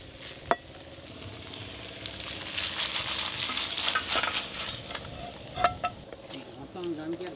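Chicken fries in oil in a pan, with a close, steady sizzle and crackle while a utensil scrapes and stirs. A few sharp clinks stand out along the way.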